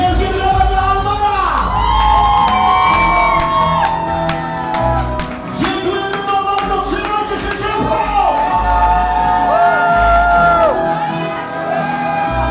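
A crowd at a live Polish pop concert cheers, shouts and whoops loudly over continuous music, the roar sustained for the whole stretch.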